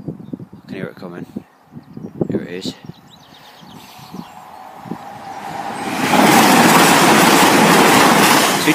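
Train approaching Oddingley level crossing in Worcestershire, a rising rumble and rush that swells after people finish talking and becomes loud and steady by the end.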